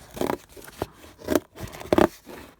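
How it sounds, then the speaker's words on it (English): Scissors snip through paper in three or four distinct crunchy cuts, close by and separated by short pauses. "I should not be cutting this with the scissors"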